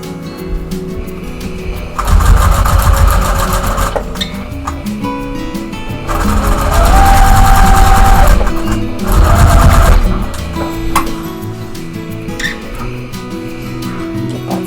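A sewing machine stitches a quilt block in bursts of a steady whirring hum, with three loud runs separated by quieter pauses with small handling sounds.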